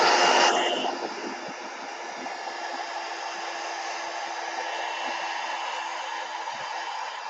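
A hair dryer blows on wet paint, a loud steady whooshing drone that starts with a brief stronger blast and then holds an even, continuous roar with no voices.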